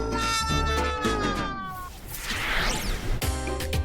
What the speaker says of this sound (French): Oh, un petit chaton.